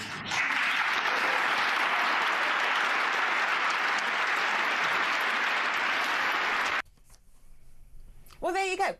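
Audience applause in a formal hall rings out loud and dense for about seven seconds, then cuts off abruptly, followed by a short burst of speech.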